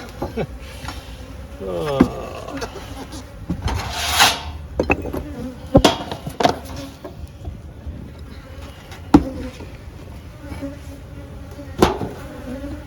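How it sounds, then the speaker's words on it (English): A dense, steady hum of many honeybees at an open hive fills the clip, with scattered knocks, scrapes and handling noises close by; a low voice briefly speaks. "when they're really noisy and they roar when you open the hive"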